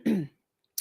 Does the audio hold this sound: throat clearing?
yes